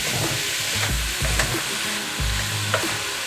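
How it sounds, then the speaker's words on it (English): Ground meat browns for chili in a hot pan, with a steady close sizzle broken by a few scraping stirs. No one talks. "So we're gonna pretty much like brown this up"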